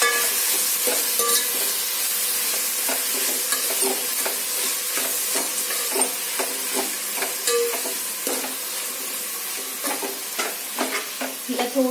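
Bhajji mixture sautéing in hot oil, a constant bright sizzle broken by frequent scraping stirs of a spoon in the pan, close and steady without voices.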